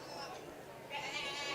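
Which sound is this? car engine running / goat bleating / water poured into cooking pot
goat bleating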